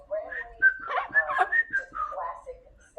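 A 37-year-old parrot whistles a string of bright, warbling notes that rise and fall over several seconds, close and fairly loud, mixed with chirpy vocal sounds.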